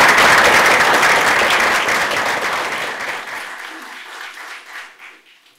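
A lecture audience applauds to welcome a speaker at a Catholic healthcare lecture, dense clapping that starts loud and full, then thins and fades over several seconds into scattered claps.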